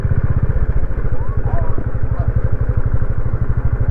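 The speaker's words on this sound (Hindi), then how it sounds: "तो यहाँ से हमारी बाइक अंदर जाएगी।" A Royal Enfield Bullet 350 motorcycle engine thumps at a steady, rapid beat close by in a busy Vrindavan street, loud and continuous with some clatter on top.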